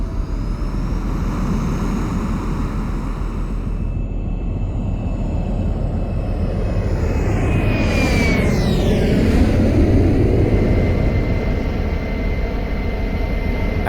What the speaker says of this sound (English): Flight 522 was cleared for takeoff and was able to depart.